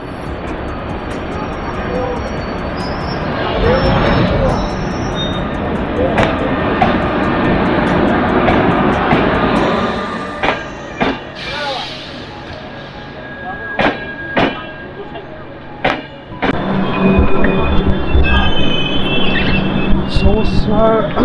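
A passenger train rolls into an Indian railway station platform with rumbling wheels and high metallic squeals, while voices and platform bustle sound nearby.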